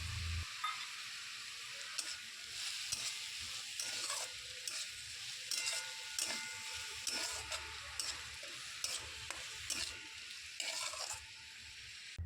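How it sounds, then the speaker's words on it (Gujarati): Chopped onion and capsicum sauté in a pan, a steady close sizzle broken by repeated clicks and scrapes of stirring, with no talking. "પછી ડુંગળી નાખીને સાંતળી લઈશું. ડુંગળી સાંતળાઈ જાય એટલે કેપ્સિકમને પણ સાંતળી લઈશું."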